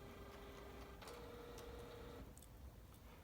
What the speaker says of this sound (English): away goes the print job, as you can hear.